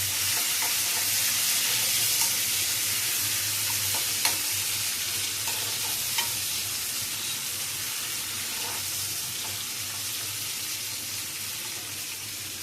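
Frying in a pan gives a steady, fairly loud sizzle with a few soft stirring clicks and knocks, easing slightly toward the end; no talking.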